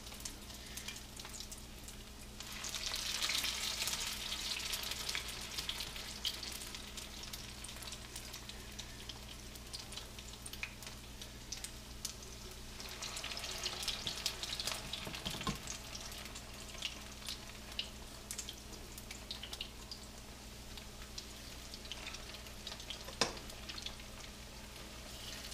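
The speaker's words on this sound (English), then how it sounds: "You fry them until they're golden brown." Sucker fish patties fry in vegetable oil in a skillet, giving a steady, close sizzle and crackle that runs the whole time with no voices.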